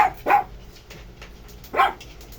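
A dog barks twice, short sharp barks with a pause between them, against a quiet room.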